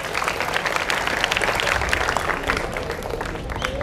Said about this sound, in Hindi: मोहम्मद हसनैन के लिए तालियां होनी चाहिए